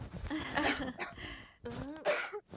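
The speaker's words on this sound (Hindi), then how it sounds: "अरे वो खांस रही है" A woman gives a few short, harsh coughs close by, with some brief vocal sounds between them.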